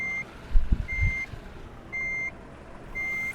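Reversing beeps from a truck in a truck simulator video game: four evenly spaced, loud electronic tones sound alone, with a couple of low thuds near the start.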